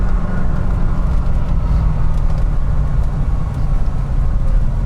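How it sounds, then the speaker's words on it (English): A 1990 Chevrolet Corvette ZR1 accelerating hard in performance mode on a test-drive route, with a steady, loud engine and road roar throughout and no speech. "Next clips, acceleration, performance mode. We're going fast."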